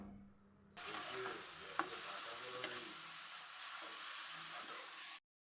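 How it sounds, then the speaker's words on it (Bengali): Chopped potatoes fry and get stirred with softened onions in a pan: a steady sizzle starts abruptly and continues close by, broken by a few light scraping and knocking stirs. "কিছুক্ষণ নাড়াচাড়া করে আমি আলুটা ভেজে নেব"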